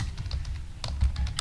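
Quick, light keystrokes clatter on a computer keyboard while code is typed, a brief close run of soft irregular taps with no voice.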